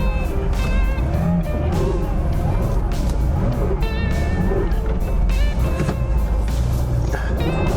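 A 1977 Porsche 911S Targa, restarted after six years of sitting, runs loud and steady with a rough engine note while being put into reverse, with faint voices audible over the engine.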